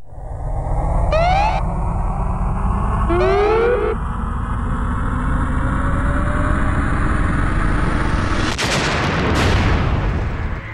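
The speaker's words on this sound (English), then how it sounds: "Explosions ripped through the 17-mile-long tunnel housing the Large Hadron Collider" A low rumbling drone with a slowly rising whine builds, then two sharp, loud blasts burst out in quick succession, explosions in the tunnel of the Large Hadron Collider.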